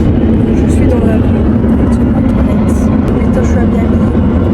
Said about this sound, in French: Je suis dans l'avion.